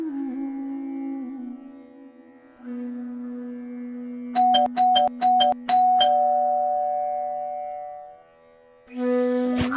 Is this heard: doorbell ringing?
yes